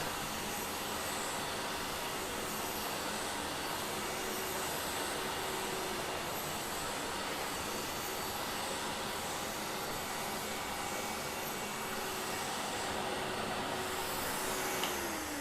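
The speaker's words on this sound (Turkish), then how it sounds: "Çalıştıralım. Çok güzel bir çekim gücü var arkadaşlar." A Libelle robot vacuum cleaner runs with strong suction, giving a steady, loud, continuous whirring hum that holds evenly throughout with no talking.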